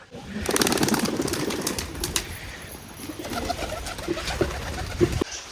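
Soft pigeon coos repeat against a steady noisy background, with occasional rustling and a few sharper bird sounds near the end.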